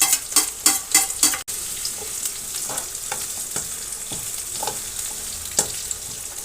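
Garlic and onion frying in a pan, a close, bright sizzle with a quick burst of stirring clatter early on, then scattered stirs over a continuous hiss.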